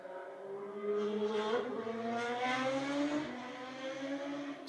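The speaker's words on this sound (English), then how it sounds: "So that was a very loud motorbike." A very loud motorbike passes outside, its engine note swelling as it nears and then fading away, with no other sound over it.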